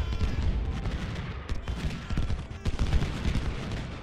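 Canister shot from cannons in Ultimate General: Civil War booms as repeated battle fire, a steady crackle of volleys and distant artillery thuds rolling through a forest engagement.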